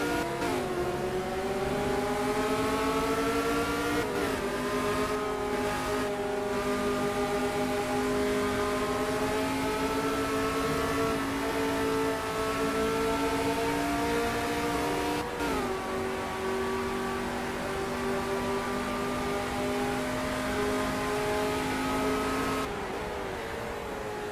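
Race cars in an American Legends Championship race accelerate out of a chicane, engines rising in pitch through repeated gear shifts, loud and sustained for the full stretch with no talk over them.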